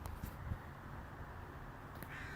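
Crows caw outdoors near a tree with a train nearby, a few short calls at moderate distance over a low, steady ambient rumble.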